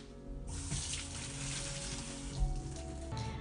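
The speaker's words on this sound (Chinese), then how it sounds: "用水清洗它。" Tap water runs hard into a kitchen sink as a fish is rinsed clean of blood, a loud steady gush that briefly dips and changes as the stream hits the fish.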